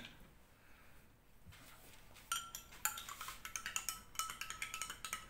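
A metal spoon clinks and scrapes against a container while stirring a WELLife detergent solution, starting quiet and turning into a quick run of close, bright taps.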